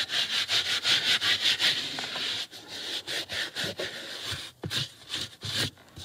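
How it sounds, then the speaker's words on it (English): Brush scrubbing on a car's interior carpet, a rapid back-and-forth rubbing rhythm that runs steadily, pauses, then resumes in shorter strokes, close and fairly loud. "So I'll scrub this down a little tiny bit."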